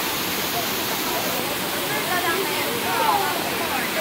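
Cane Creek Cascades waterfall roars in a steady broadband rush, close and constant, with voices partly mixed in.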